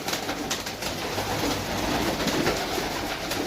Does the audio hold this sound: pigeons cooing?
yes